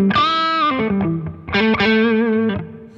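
Electric guitar lick through a Keeley Aria overdrive pedal, with a gritty overdriven tone, bending notes across two quick phrases, loud and close with no talking.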